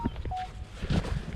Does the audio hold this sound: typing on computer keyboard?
no